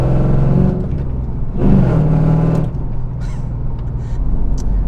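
A 1999 Pontiac Firebird Trans Am WS6 with a naturally aspirated engine rumbles loud and close, its note swelling in a brief rev near the middle before settling back to a steady, throaty drone.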